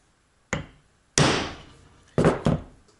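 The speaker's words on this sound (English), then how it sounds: "This is a little center punch." Four sharp hammer strikes on a small center punch with a hardened tip, close and fairly loud, spaced irregularly with the last two coming in quick succession, each ringing briefly before fading.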